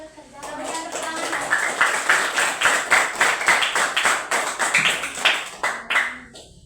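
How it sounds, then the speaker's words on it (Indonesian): Schoolchildren in a classroom clap together in a rhythmic, patterned beat, with sharp, loud, evenly paced claps bunched into quick groups for several seconds before stopping. "Kita berikan tepuk tangan."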